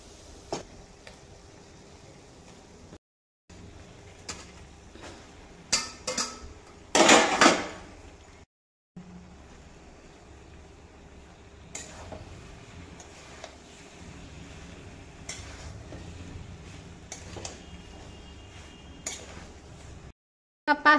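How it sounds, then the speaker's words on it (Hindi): Boiled pasta tipped into a home kitchen pan and stirred, giving scattered clinks and scrapes of utensil against metal with one louder clattering burst midway, all close by over quiet room tone. "अब इसमें डालिए ये उबला हुआ पास्ता।"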